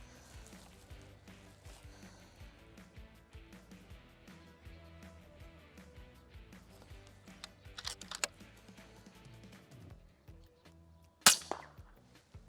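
Airgun shots while hunting: a sharp, loud report near the end stands out above quiet outdoor handling and faint clicks, with an earlier smaller snap; no talk.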